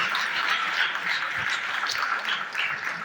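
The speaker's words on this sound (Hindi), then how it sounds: "जोरदार तालियां बजनी चाहिए।" An audience claps steadily at a large religious gathering, producing a dense, even wash of applause that fills the whole moment without any speech on top.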